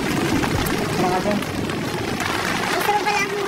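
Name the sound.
rain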